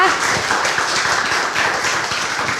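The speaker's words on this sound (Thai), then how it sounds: "ขอเสียงปรบมือหน่อยได้ไหมคะ" Audience applause at a Hatyai football club event, a dense, even wash of many hands clapping together, loud and continuous throughout.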